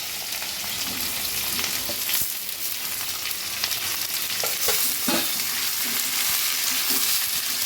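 Chopped ivy gourd hits hot tempered oil in a pan, giving a loud, constant sizzle and crackle broken by occasional clanks and scrapes of stirring. No one speaks.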